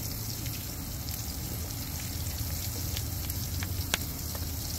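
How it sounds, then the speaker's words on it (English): Steak sears in a skillet on a camping stove, giving a steady, close sizzle that runs throughout with small crackles and pops and no talking. "Basically, all you're doing is searing the steak."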